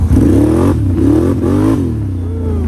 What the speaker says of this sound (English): I'm gonna hit it from a dead stop and watch it pop them wheels up